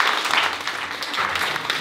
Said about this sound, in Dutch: Graag een applaus.